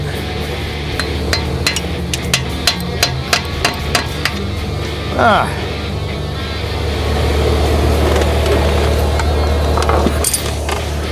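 A hammer gives a series of light, sharp taps on wood, fairly close, spaced irregularly over several seconds against a steady low hum and some background rumble.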